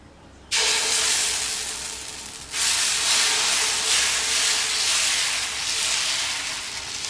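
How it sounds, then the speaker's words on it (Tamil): Adai batter poured onto a hot dosa griddle erupts into a loud, steady hiss after a quiet start, with a second surge of sizzling partway through, close and continuous with no voices. "இப்போ அடையை ஊற்றிடலாம். தோசைக்கல் சூடாயிடுச்சு."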